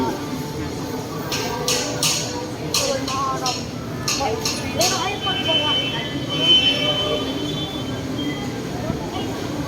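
Rumbling rail noise of an LRT train at Pasay station in the Philippines, with brief hissing bursts and people talking nearby throughout.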